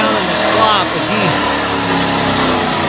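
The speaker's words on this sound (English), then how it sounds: "Then gets the truck going again, but he's already bogged down in the slop" A truck engine revs while the truck is bogged down in a mud pit at a mud racing event, a loud, strained roar rising and falling over crowd and commentary noise.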